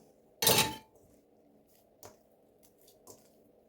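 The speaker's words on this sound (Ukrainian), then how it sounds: "І тепер будемо масло вмішувати у тісто." Melted, cooled butter is kneaded by hand into soft sausage-roll dough: one loud, wet squelching burst, then two faint, brief squishes against a quiet background.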